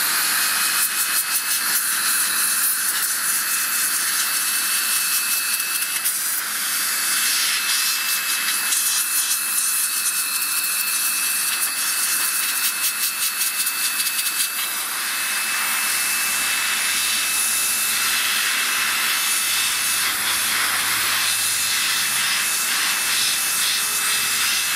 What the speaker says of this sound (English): I'm going to go and give this a blowout with the Makita